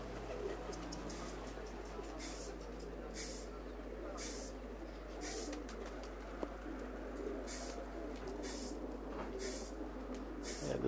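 Pigeons coo softly near a rooftop, low murmuring calls under steady outdoor background noise, with repeated brief hissing bursts and faint voices in the background.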